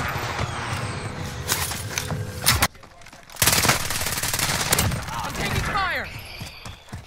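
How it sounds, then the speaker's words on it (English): Rapid automatic gunfire in the Modern Warfare Warzone video game, loud sustained bursts with a short pause in the middle, while players talk over the shooting. "I'm taking fire!"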